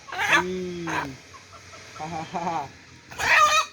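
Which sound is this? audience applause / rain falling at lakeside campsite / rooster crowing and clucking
rooster crowing and clucking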